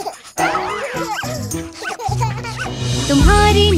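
A sung children's rhyme in which a voice imitates a small dog's bow-wow barks and yips over a bright musical backing, the barking calls repeating in short rhythmic bursts.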